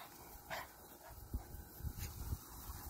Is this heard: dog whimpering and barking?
yes